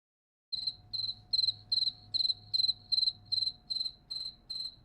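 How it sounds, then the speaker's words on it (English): Cricket chirping used as a sound effect: a steady, evenly pulsed series of about a dozen bright chirps, loud and close, with a faint low hum beneath. "We got crickets."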